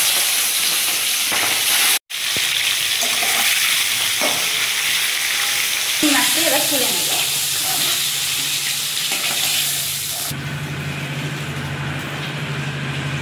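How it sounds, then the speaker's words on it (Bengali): Prawns frying in hot mustard oil give a loud, steady, close sizzle. It cuts out for an instant, then hisses on, and a brief voice speaks near the end. "তেল গরম হয়ে গেছে, এবার চিংড়ি মাছটিকে সুন্দর করে ভেজে নেব।"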